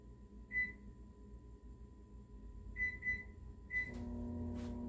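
Quiet room hum broken by a few high electronic beeps, then a microwave oven starts up with a low steady hum.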